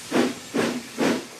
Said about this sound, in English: Thomas is a steam engine.